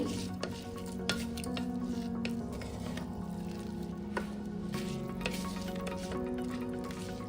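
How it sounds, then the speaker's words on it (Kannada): Sona masuri rice being stirred together with vegetables in a pan, a soft continuous sizzle with scraping and stirring strokes throughout, fairly quiet and close, with no talking. "ಸೊ ಈಗ ಅಕ್ಕಿನ ತರಕಾರಿ ಜೊತೆ ಚೆನ್ನಾಗಿ ಮಿಕ್ಸ್ ಮಾಡ್ಕೊಳ್ಳಿ"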